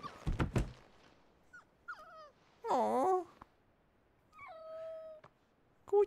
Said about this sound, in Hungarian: Kutya vagy farkas? Hát ez inkább farkas amúgy.